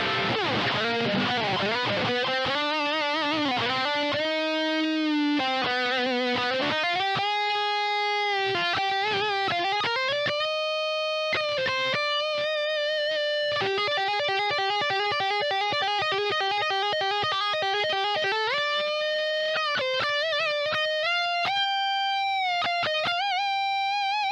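An electric guitar through a Yamaha THR10 modeling amp with added gain, treble and mids plays a melodic riff, sustained gritty notes and bends ringing out alone for a long passage.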